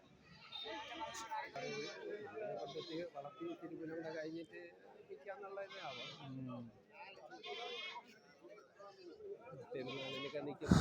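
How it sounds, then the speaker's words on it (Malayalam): Goats bleat repeatedly at a busy livestock market, several animals calling over and under a steady hubbub of people talking nearby. "ഇവിടെയും വലിയ ആടുകൾ ഇതായി ഭാഗത്ത് നിൽപ്പുണ്ട്"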